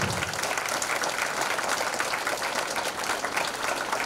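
An audience at a church blessing meeting claps continuously, a dense, even roar of applause with no pauses.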